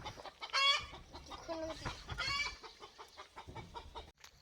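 Several free-range village chickens cluck and squawk close by on a farm, with a few louder bursts of cackling among softer, scattered clucks.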